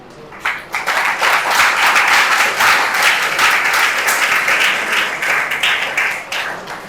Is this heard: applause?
yes